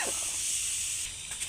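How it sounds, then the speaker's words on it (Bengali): Water poured into a hot pan of just-fried spices for a sweet-sour-spicy pickle gives a steady broadband hiss and steam that holds loud for about a second, then eases and flickers near the end. "এবার অল্প জল দিয়ে দিচ্ছি।"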